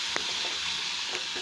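Fish curry with chili powder bubbles and sizzles in a pan while being stirred, a steady close hiss with a few soft scrapes and taps over a second and a half, no voices.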